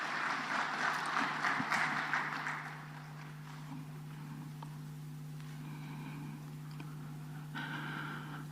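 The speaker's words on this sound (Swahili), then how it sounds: "Makofi mengi tena waheshimiwa viongozi." Applause from the audience at an official Tanzanian government ceremony where an anti-corruption report is presented to the President: clapping is fairly loud for about three seconds, then fades to a soft patter under room hum.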